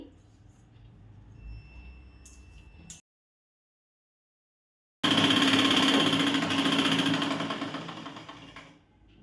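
Sewing machine stitching a tucked blouse, running in a short burst, then cutting to total silence, then returning for a longer, loud, steady whirring run up close.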